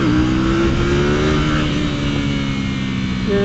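A KTM 790 Duke motorcycle engine revs hard in second gear, a loud, steady, close drone that holds on one pitch and climbs a little near the end, with no talk over it.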